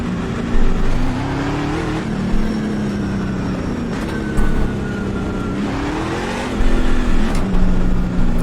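Ford F150 race truck in the iRacing simulator, engine droning loudly and steadily with pitch rising through repeated gear shifts as it accelerates, no voices.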